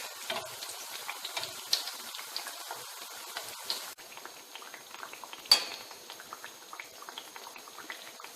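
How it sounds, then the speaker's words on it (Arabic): Farasha pastry deep-frying in hot oil for a Ramadan sweet: a steady, dense crackle and bubbling runs throughout, with occasional sharper pops and light utensil clinks, close by and with no voices. "كنخوي عليها الزيت باش كتنفخ بهذا الشكل هذا كما كتلاحظوا"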